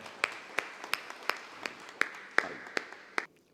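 Sharp, evenly spaced single claps ring out at a Hindi kavi sammelan poetry gathering, about ten distinct beats at a steady rhythm, close and clear, ending in a brief fade with no voices.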